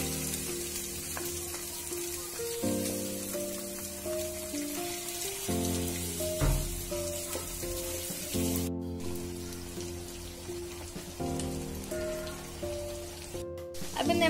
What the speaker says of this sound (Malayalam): അതിലേക്ക് പ്രോൺസ് ഇട്ടിട്ട് നമുക്ക് ഫ്രൈ